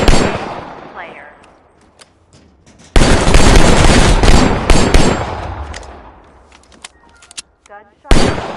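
Loud bursts of gunfire from the video game The Culling II, a heavy volley at the start and another sustained barrage in the middle, each fading with a long echoing tail, then a sharp shot near the end.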